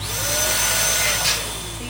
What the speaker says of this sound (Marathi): आमच्याकडे बलून फुगायची मशीन आहे